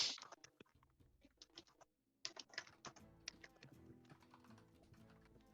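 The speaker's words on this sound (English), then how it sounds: "There's a lot of typing going on" Quiet, close computer keyboard typing: irregular bursts of light key clicks and taps with a short pause partway through, then resuming steadily.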